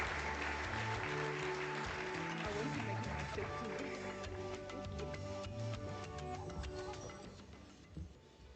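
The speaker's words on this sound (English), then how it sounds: "Let's give her a warm round of applause." Applause fills a conference hall as an oil and gas industry audience welcomes a managing director to the stage, steady clapping over a hum with background murmur, tapering slightly near the end.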